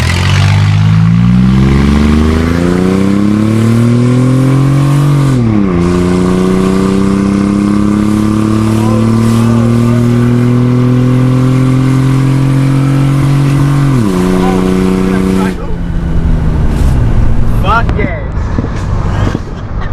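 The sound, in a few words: car with custom exhaust accelerating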